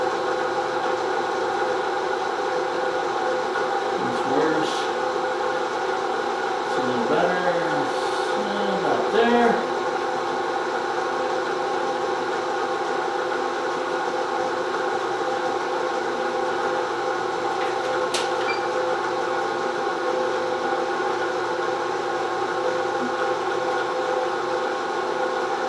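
A milling machine hums steadily while boring an XS650 motorcycle head bearing cap held in a fixture, a constant mechanical drone with a few brief squeaks and scrapes partway through, no talking.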